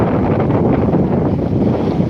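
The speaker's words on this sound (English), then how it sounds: "it's that windy, we're going to get sand blowing in our faces" Strong, steady wind roars and buffets the microphone on the seaside promenade at Withernsea, a continuous loud rumble with no break and no voices.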